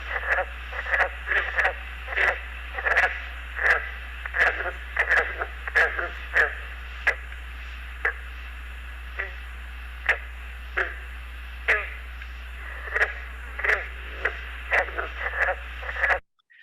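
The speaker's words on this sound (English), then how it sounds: "I don't particularly like the call of the green frog, but I'll go ahead and play it" A recorded green frog call plays as a series of banjo-like twangs, plucked single notes repeating at irregular intervals with a steady hum beneath, stopping abruptly at the end.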